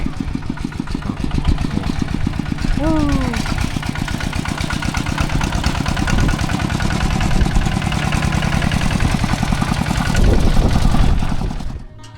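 A heavy single-cylinder farm tractor engine in rural Laos chugs steadily at close range, revving slightly partway through, with a rhythmic thumping idle throughout.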